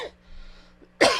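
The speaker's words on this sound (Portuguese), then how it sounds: "Me desculpe essa tosse" A man at a seated interview gives a short cough at the start, followed by a quiet pause, then a louder, harsher cough at the end.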